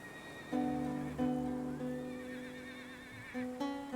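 Horse in the strategy game Humankind, neighing loudly in repeated whinnies with a few clip-clop steps, close up and with no talk.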